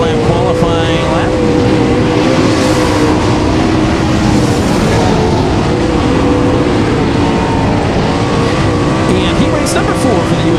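A UMP Modified race car runs its hot qualifying lap through turns three and four of a quarter-mile oval at night, its engine roaring loudly and steadily, with an announcer talking over it.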